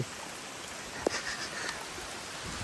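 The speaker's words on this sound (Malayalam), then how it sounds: "ഇന്ന് ഓഗസ്റ്റ് ഒന്നത്തെ മഴയാണ്, നിർത്താതെ പെയ്ത" Heavy nonstop August rain falling steadily, a soft even hiss of drops on surfaces with one brief knock partway through, no voices.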